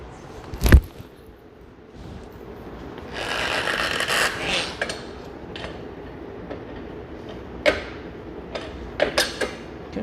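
A Harbor Freight tire change stand is forced down against a tire bead, giving a sharp metallic clank early, a grinding creak of strained rubber and metal, then scattered knocks and clicks.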